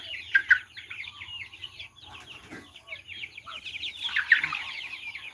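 Young chickens nearly two months old cluck and chirp continuously at close range on a farm, with bursts of calls that rise and fall throughout.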